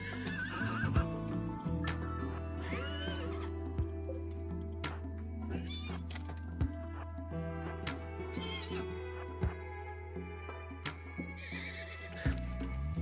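Horses whinny and neigh repeatedly amid steady hoof clip-clops and sharp intermittent cracks, over a constant low hum, with a synthetic, game-like quality, from the video game RimWorld.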